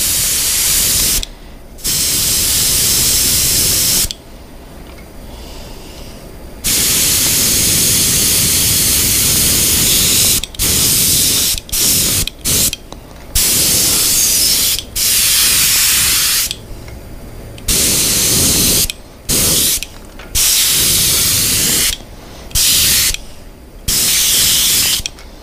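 Short and long bursts of an airbrush spraying pearl paint onto a soft plastic swimbait, a close hissing spray that starts and stops repeatedly with quiet gaps between.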